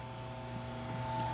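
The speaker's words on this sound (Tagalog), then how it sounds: "Didinig ko pa ugong." A steady low electric hum rises from an electric fan motor just after it is plugged in, a constant tonal drone with no speech.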